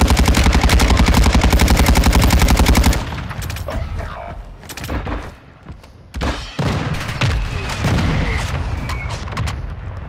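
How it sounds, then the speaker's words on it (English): A mortar strike lands in a video game: a loud, rapid pounding volley for about three seconds, then scattered, uneven thuds and impacts at lower level. "Mortar strike on the way."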